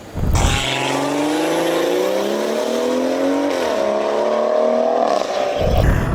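A B58-swapped BMW E46 Touring accelerating hard, its engine note climbing steadily and loud for several seconds, dipping briefly at a shift before rising again, then cutting off.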